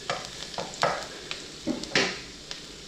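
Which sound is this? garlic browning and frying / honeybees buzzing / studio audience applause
garlic browning and frying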